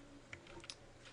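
Keys tapped a few times on a computer keyboard during Rhino 3D modelling work, two sharper clicks standing out over faint room noise, close and quiet.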